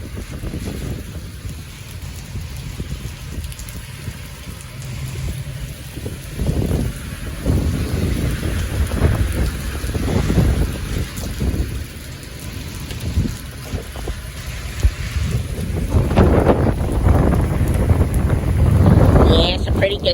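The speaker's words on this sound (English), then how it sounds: "Got a nice storm out here." A strong storm with gusting wind roars and buffets the microphone, rising and falling in loud surges, with rain and occasional voices beneath.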